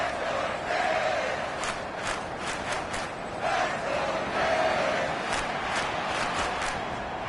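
Stadium crowd roaring steadily in a Madden 23 Patriots at Dolphins week 1 game, a broad continuous wash of cheering with brief swells and sharper bursts, no commentary heard over it.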